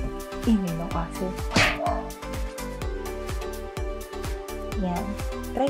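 A small dog yips and barks indoors in short bursts, mixed with whimper-like sounds, with someone talking over it.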